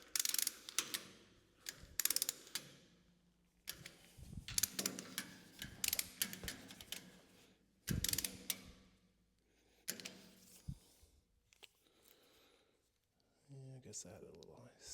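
A torque wrench clicks and ratchets on hub bolts of a Case 1840 skid steer frame, coming in close bursts of rapid mechanical ticking separated by pauses.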